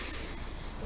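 A single short hissing burst of WD-40 from an aerosol can, sprayed onto a rag while winterizing a Mercury outboard motor that has been used in salt water, sounds steady and close, with no voices.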